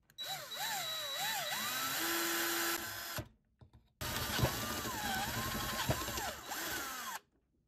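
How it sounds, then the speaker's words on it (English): A power drill bores a 1/4 inch hole through two pipes of a fishing net handle, running in two long sustained bursts with a short pause between, close and loud, and no talking. "I have to drill, I believe it's a 1/4 inch hole through both of these pipes"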